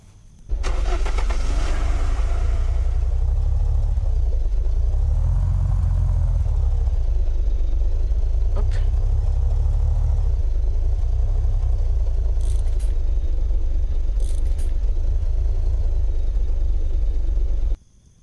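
A car engine turns over and then runs at a steady idle for a long stretch while cars are being parked in the Unturned video game. It holds a constant low rumble that rises briefly in pitch before settling, then cuts off at the end.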